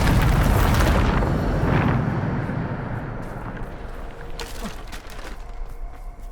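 Bombarda explosion spell cast in the video game Hogwarts Legacy: a loud, broad blast opens the clip, then rumbles and slowly fades into a lingering roar with scattered crackles.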